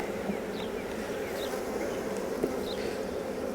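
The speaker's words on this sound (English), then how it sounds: "they are some mean bees" Honeybees swarm around a queen-check hive in a garden, an aggressive, ageing colony giving a steady, dense buzz close by with occasional higher passing whines of individual bees, continuous throughout with no talk.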